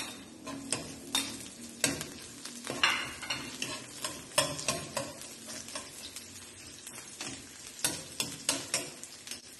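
Garlic and onion fry in a pan for squid adobo, with a steady soft sizzle under repeated scraping and clinking stirs at close range, and no voices.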